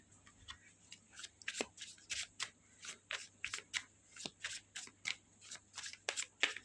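Oracle cards shuffled by hand and then drawn, giving a steady run of crisp riffling bursts in a quiet room, close and fairly soft.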